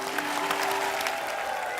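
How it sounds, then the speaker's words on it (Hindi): A studio audience at a Hindi comedy talk show applauds loudly and continuously, a dense roar of clapping with a steady tonal hum underneath. "एक बार प्रभु सर, तमन्ना और सोनू बाजी के लिए जोरदार तालियां"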